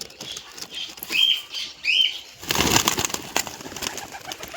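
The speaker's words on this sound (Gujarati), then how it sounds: "આપણા વાઇટના બચ્ચા વાઇટ કબૂતરના" Young white pigeons give soft, short cooing calls, two brief close calls in a row, followed by a burst of rustling or shuffling nearby.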